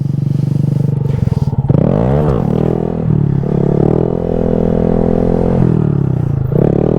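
A 125cc Honda Grom motorcycle revs hard on a wheelie attempt, its engine loud and close, rising and falling through the rpm range with a rattling scrape near the start.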